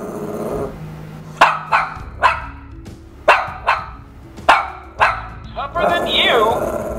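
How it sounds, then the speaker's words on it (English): A dog barks seven or eight times in sharp, loud, close bursts at an uneven pace, with a growly tail near the end, while someone speaks quietly in the background. "It analyzes barking and translates each bark using predetermined phrases"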